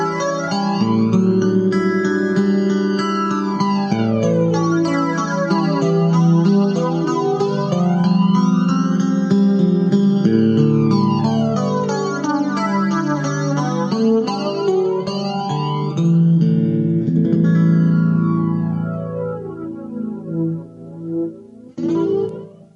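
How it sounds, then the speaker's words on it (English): Vox DA5 portable guitar amp on its clean 1 setting with a flanger reverb effect, playing chords and notes with loud, continuous sweeping whooshes and reverberant washes that fade at the end. "here is the Vox DA5 on clean 1 setting with a flanger reverb on the effects"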